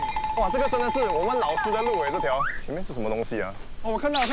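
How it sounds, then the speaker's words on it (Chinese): Crickets chirp loudly and steadily outdoors along a road, a constant high trill running beneath people talking excitedly the whole time. "你可以听到那个蟋蟀的声音很大声哦。"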